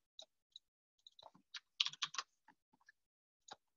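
Typing on a computer keyboard gives a quiet, irregular run of key clicks, close by, with brief bursts and pauses.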